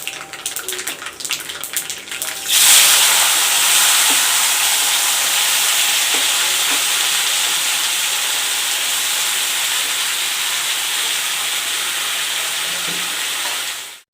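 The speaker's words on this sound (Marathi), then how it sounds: "भाजी वगैरे वघार करताना खूप आवाज येतो" Oil hisses and sizzles loudly and steadily as cut potatoes hit hot tempering oil in a pan, a continuous close-up crackle after a brief clatter at the start.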